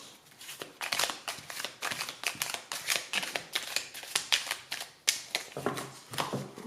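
Tarot cards shuffled and handled during a reading: a steady run of crisp slaps, riffles and flicks, close and fairly loud, with no voices.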